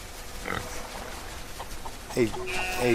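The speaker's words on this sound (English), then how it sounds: "so we got one pig named Scooby." A pig in the farming video game SolarPunk gives a short oink, then a second grunt near the end, heard under a background of game ambience and a speaking voice.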